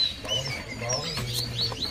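Pelanduk semak birds chirp at a bird market stall, with several short, high, sharp tweets repeating close by over a low steady background hum.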